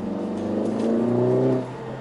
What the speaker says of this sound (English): this is the best sounding 2-liter four-cylinder engine I have ever heard